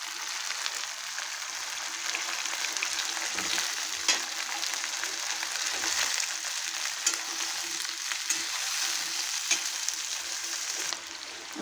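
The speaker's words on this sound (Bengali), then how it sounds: "এখন আমি আলু আর পটল দিয়ে দেবো।" Potatoes and pointed gourd fry with onions in a pan, giving a continuous, moderately quiet crackling sizzle, flecked with small pops and stirring clicks and with no voices.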